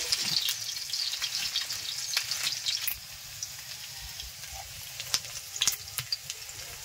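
Onion frying in oil in a pan over a clay stove, a close crackling sizzle with scattered sharp pops and stirring scrapes, louder at first then settling into a quieter sputter, no talking.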